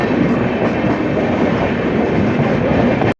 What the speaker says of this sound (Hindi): ये शायद ग्रैंड ट्रंक एक्सप्रेस होगा, जीटी एक्सप्रेस।